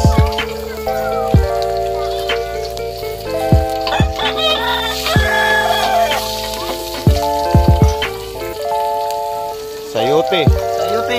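Garlic and onion frying in a pan for a sautéed chayote dish, a steady crackling sizzle running throughout, broken by metallic clanks and tonal knocks from utensils against the pan, close and fairly loud.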